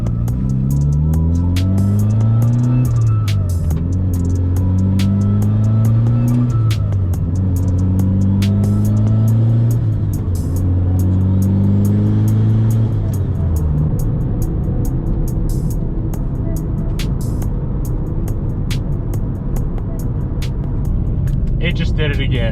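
A car engine idles steadily up close, its tone wavering and surging for the first stretch before settling into a rougher, uneven run that sounds like it is faltering; a voice talks over it.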